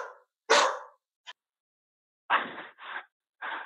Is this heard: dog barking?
yes